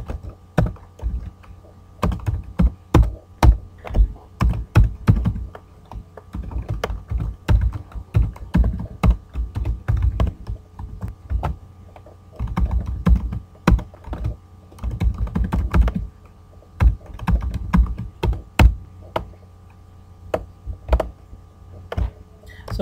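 Computer keyboard typing in irregular bursts of close, crisp keystrokes with short pauses between runs, no talk.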